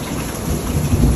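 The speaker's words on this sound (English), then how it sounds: "Nice kick of thunder right there." Thunder rumbles low and heavy beneath steady rainfall in an outdoor storm, the roll swelling toward the end over a constant hiss of rain.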